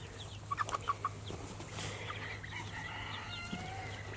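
Chickens cluck in a coop at a barn, with a short run of about five sharp clucks early on, then quieter scattered calls over a low steady hum.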